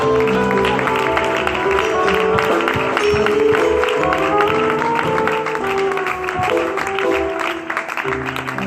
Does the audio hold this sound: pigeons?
no